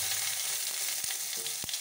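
Whole spices for tempering, bay leaf, a dried red chilli and radhuni, sizzle in hot oil with a steady bright hiss, close, broken by a couple of low thuds, no talking.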